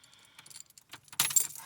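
A set of keys jingles faintly, then gives a louder metallic jangle as the key goes into the ignition of a 1998 GMT400 Chevy Silverado 1500, all close up and over within about two seconds.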